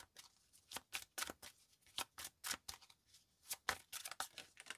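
Oracle deck of intuition and action being shuffled by hand in a card reading, a quick run of crisp riffling bursts with short pauses, close and fairly soft, no talking.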